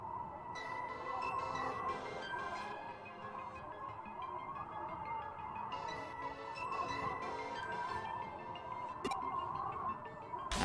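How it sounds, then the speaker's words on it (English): Static white noise over a call in the video game Digimon Story: Cyber Sleuth Complete Edition, a faint, continuous hiss with a steady tonal hum and brief bursts of brighter crackle, with no talking. "The white noise in this is really bad."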